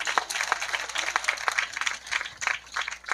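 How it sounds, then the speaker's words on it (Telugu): A crowd applauds at a Christmas Sunday school dance performance in Kichappagudem, a dense patter of many hands clapping at moderate distance, swelling and easing over a few seconds. "చప్పట్లు కొట్టండి ఒకసారి."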